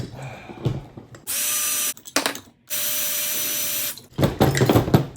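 Two whirring bursts of a power drill spinning bolts out of a Briggs lawnmower engine with a blown head gasket, separated by clanks and metallic rattling, close and loud.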